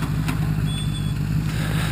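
A motorcycle idles steadily at close range after pulling onto a small bike path, its low engine rumble even and continuous throughout, with no talk over it.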